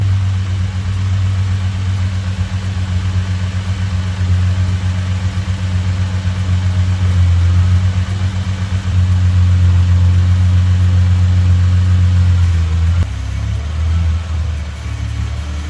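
A Hyundai Genesis Coupe drift car engine idles loudly and steadily nearby, with a brief rev and a settle to a lower, rougher idle near the end; no one speaks.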